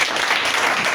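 A church congregation at a French-language worship service bursts into a brief, dense patter of applause.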